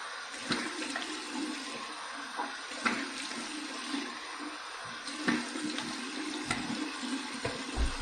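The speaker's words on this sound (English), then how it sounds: "Cold water rinse right now." Cold tap water runs steadily into a sink for a rinse after a shave with a Pearl Flexi adjustable razor, a close, continuous rushing splash with small irregular spatters and no talking.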